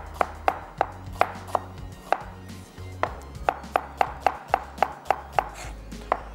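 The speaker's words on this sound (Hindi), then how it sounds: "यहाँ पे करते हैं प्याज को हम स्लाइस" Knife slicing onions on a cutting board, a steady run of sharp, close chops that speed up toward the end, with a low hum underneath.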